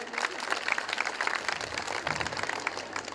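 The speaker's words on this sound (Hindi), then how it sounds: "हमारी एसएचओ महोदया के लिए भी एक बार जोरदार तालियां बजाइए।" Applause at a school annual day function honoring a female police station officer: dense continuous clapping from a crowd, moderately loud and even, with faint murmurs beneath.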